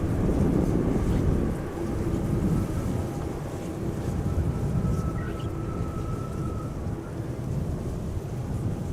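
An eight-year-old KLM Boeing 787-9 Dreamliner arriving at Amsterdam Schiphol from Austin, Texas gives a steady, rumbling jet roar with broad wind-like noise that holds throughout at moderate loudness.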